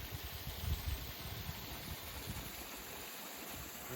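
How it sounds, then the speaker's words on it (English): A small waterfall pours over a couple of rocks amid thick vegetation, giving a steady, broad rushing wash of moving water close by with no break or talk. "here's that waterfall here where a couple rocks are"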